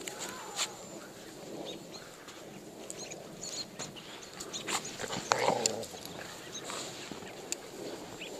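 A dog whines and whimpers in fresh snow during a rare heavy snowstorm in Dallas, Texas, with soft, intermittent high cries and rustling over a faint background hum.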